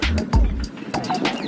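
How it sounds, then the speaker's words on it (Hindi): Birds calling outdoors in Itarsi, short chirps and a soft cooing nearby, brief and lively with no talking. "चिड़ियों की आवाज़ कान में इतनी प्यारी लग रही है"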